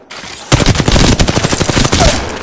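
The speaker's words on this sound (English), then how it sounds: "Shooting." Rapid automatic gunfire from the video game Apex Legends, loud and close, forms a dense burst of shots that runs almost without a break for about two seconds.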